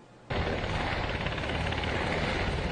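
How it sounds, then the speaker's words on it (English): A UH-60 Black Hawk military helicopter in Iraq cuts in abruptly and loud, its rotor and engine giving a dense, steady, close roar with a rapid chop, with no voices. "The UH-60 helicopter, commonly known as a Black Hawk, is used throughout Baghdad for air assaults and transporting passengers."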